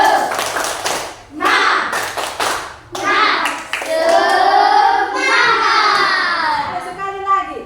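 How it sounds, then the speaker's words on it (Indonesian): A classroom of children claps in a rhythmic cheer clap with their teacher: bursts of crisp group clapping alternate with lively voices calling and chanting between the rounds. "Ayo kita tepuk semangat."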